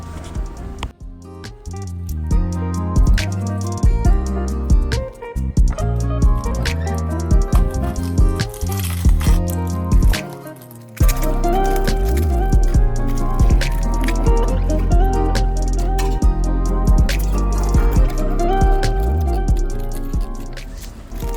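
Peppers and onions are washed in a bowl of water, giving repeated drips, splashes and squishy sloshing that carry on throughout under steady background music.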